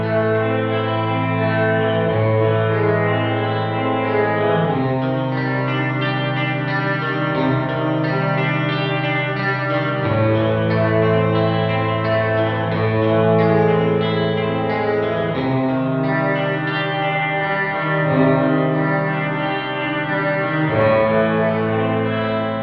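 Music runs through a McDSP FutzVerb reverb plugin, its reverb tail filtered so the top end is cut off for a thin, colored character. The processed sound plays steadily and alone, without speech.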